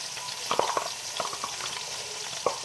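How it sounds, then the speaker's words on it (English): Onions frying in melted butter in a pan, a soft continuous sizzle broken by a few clusters of scraping stirs and clicks, close and fairly quiet, with no voices. "But you add your onions, get those mixing in there real good."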